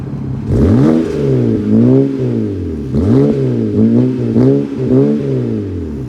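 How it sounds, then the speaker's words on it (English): A BMW E60's engine revs up and down repeatedly through a single exhaust, loud and close, with a throaty note rising and falling in several bursts. "this is just how it sounds with one exhaust"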